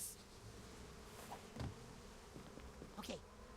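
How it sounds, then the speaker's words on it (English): Bees buzz in a video game: a low, steady insect hum runs throughout at moderate level, with a few brief clicks and chirps scattered over it. "Not the bees!"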